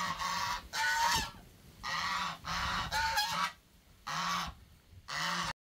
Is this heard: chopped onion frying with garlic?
no